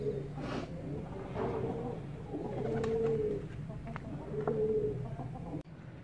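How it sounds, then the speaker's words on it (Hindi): Pigeon cooing inside its coop, a few low rolling coos repeated at a steady pace, close and fairly clear over a quiet background. "मैंने कबूतर को 5 मिनट के लिए खुडे में छोड़ा है।"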